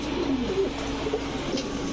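A pair of Tiger Golla pigeons coos in low, soft, repeated calls, close by and moderately loud against a steady background hum.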